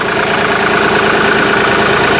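Vehicle engine running at idle, a steady, loud, even mechanical drone with a constant hum, up close and uninterrupted.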